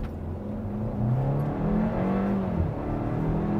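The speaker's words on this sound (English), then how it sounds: "Full send-off in the brand new 2024 Hyundai Kona." A 2024 Hyundai Kona small SUV pulls away with a steady engine drone and rising revs, heard from inside or close by, continuous and moderately loud with no voices.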